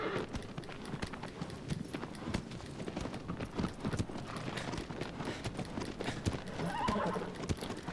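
Hooves clip-clop in a quick, steady rhythm with a horse neighing partway through, over a busy rumbling background, from the video game Shadow of the Colossus on PS4 Pro.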